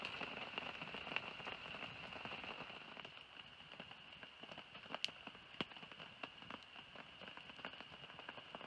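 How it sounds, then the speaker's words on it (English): Rain patters on surfaces around a campsite in a coastal Oregon forest, a soft, steady hiss with scattered sharper drops tapping close by, fairly quiet and with no talking. "It's quite a rainy day."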